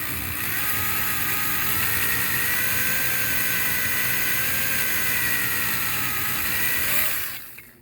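A hole saw grinds steadily into a glued PVC fitting, pressed straight down at slow speed, giving a continuous loud whirring drone for about seven seconds that cuts off abruptly near the end.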